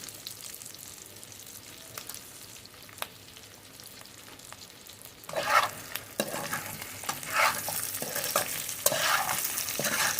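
Sliced capsicum frying with onions in a hot pan for fried rice and chilli chicken, quiet at first, then a spoon stirring through the vegetables brings up a bright, steady sizzle.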